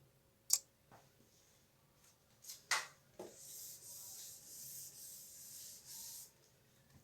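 A marker writes on a wet whiteboard, starting with a few sharp taps and scrapes, then a sustained squeaky rubbing of strokes across the surface, soft and close.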